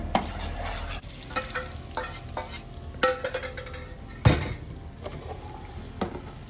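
A spoon stirs a bubbling sweet potato flan mixture in a pot, scraping and clinking against the metal in irregular strokes over a soft, steady sizzle.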